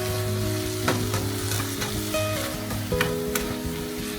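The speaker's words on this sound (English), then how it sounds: "And I'm going to add the squid right now" Squid seasoned with oyster sauce, pepper, sesame oil and Chinese Shaoxing wine stir-fries in a hot pan. A loud, close, steady sizzle is broken by sharp scraping and clanking strokes from stirring.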